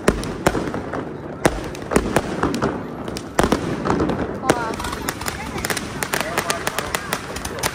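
Firecrackers and fireworks exploding at a Lantern Festival in China, with constant crackling and sharp bangs in dense irregular bursts, loud and nearby, as people talk over the noise.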